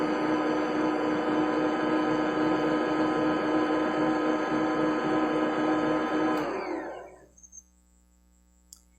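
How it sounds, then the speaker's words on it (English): A bread machine mixing dough, a steady loud motor hum with a dense whirring texture that runs for about seven seconds, then winds down and stops, leaving near silence and one small click. "now we're going to turn on the machine and let it mix that up"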